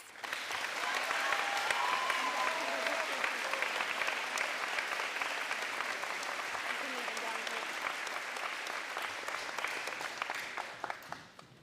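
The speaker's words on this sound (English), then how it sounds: "Please join me in giving them a round of applause." A school audience at an eighth grade promotion ceremony applauds award recipients, a dense, sustained roar of many hands clapping that holds steady for several seconds before tapering off.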